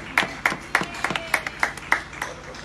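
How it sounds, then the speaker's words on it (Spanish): A small group claps in a quick, even rhythm, about ten sharp claps over under three seconds, close and clear with no talk over it. "Pues aplaudimos a estos chicos."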